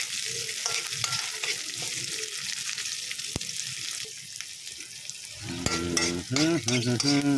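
Onions fry in a pan with a steady sizzle and crackle, close by, and stirring clatters against the pan. Near the end a brief scraping and sharper hiss come through, with no talking.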